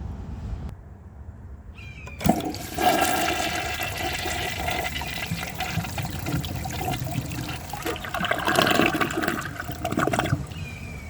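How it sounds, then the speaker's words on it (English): A 2000 Mansfield Alto comfort-height toilet flushes with a sharp start and a strong swirling rush of water that keeps going for several seconds, swells again near the end, and then cuts off. "let's give this a flush and see how it does on tests"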